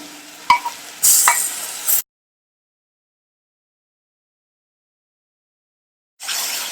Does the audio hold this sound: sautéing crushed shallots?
yes